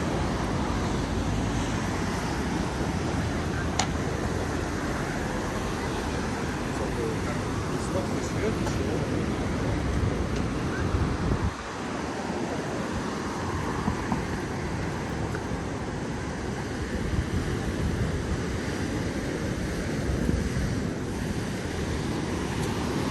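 Rough surf churns and rushes steadily after a storm at Konyaaltı Beach, Turkey, where a river meets the sea, mixed with gusting wind buffeting the microphone, a constant loud wash with no clear break between waves.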